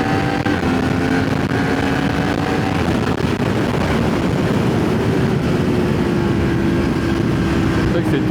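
A Yamaha MT-10 motorcycle accelerates with a sustained, loud engine drone that rises steadily in pitch, heard close from the rider's position under wind noise.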